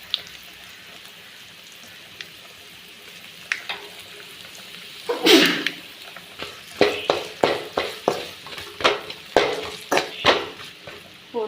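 Drumstick vegetable pieces dropped into hot oil and stirred, a sudden burst of sizzling followed by a run of regular scraping strokes of a spoon against the pan, close and clear over a low frying hiss.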